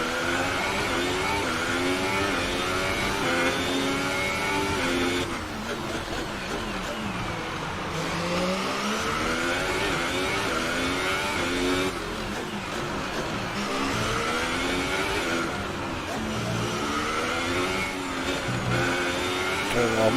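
Simulated Formula 1 race car engine in F1 2018 at the Baku city circuit, revving hard and shifting through gears continuously, loud and close, with an engine noted as down on power.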